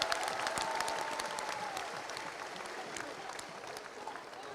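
Sustained applause from a political rally crowd fills the scene, many hands clapping in a dense, even wash that slowly eases off, with faint voices mixed in underneath.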